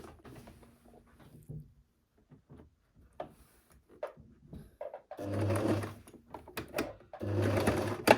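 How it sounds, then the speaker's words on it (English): A sewing machine stitching a neckline facing runs in two loud bursts of rapid, even whirring after quiet handling clicks and fabric rustles. "So I finished sewing it."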